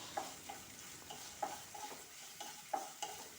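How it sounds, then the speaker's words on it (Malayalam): Prawns stirred and frying in a pan for a Malayalam prawn dish with irumban puli and jackfruit seeds, a steady soft sizzle broken by regular scraping strokes of a spoon, fairly quiet with no talk. "കഴുകി വെച്ച നന്ദൻ ചെമ്മീൻ അതിലേക്ക് ഇട്ട് കൊടുക്കാം. എന്നിട്ട് അത് നന്നായിട്ട് ഇളക്കി കൊടുക്കണം കേട്ടോ."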